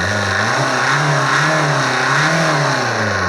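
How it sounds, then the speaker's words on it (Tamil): A Tata Indica car engine runs steadily and loudly up close, its pitch rising and falling slightly as it idles and revs. "இன்ஜின் சவுண்டு பார்த்திங்கன்னா நல்லாயிருக்கு"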